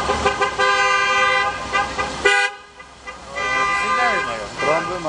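Old car horn blasting loud and sustained at a vintage car meet in Środa Śląska, a long blare of about two seconds, then a brief lull before voices and further horn-like toots amid crowd noise.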